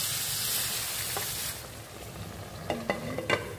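Spiced chicken frying in a pan gives a steady sizzle that softens as a little water is added, with a few light stirring scrapes near the end.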